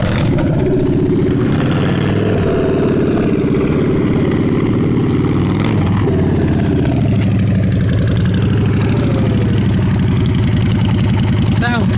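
Custom bobber motorcycle engine idling steadily and loud throughout, a deep continuous rumble with a brief blip near the middle, while people talk over it.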